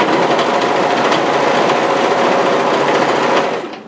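An overlocker sewing machine stitches fabric for a gathered-sleeve raglan top in a fast, loud, continuous rattling whir at close range, then cuts off near the end.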